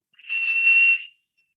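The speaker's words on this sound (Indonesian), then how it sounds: "Nah, ini adalah prinsip seruling atau peluit." A single clean, high-pitched whistle tone, blown as a demonstration of how a flute or whistle works, rises quickly and holds steady for nearly a second before stopping, alone and close.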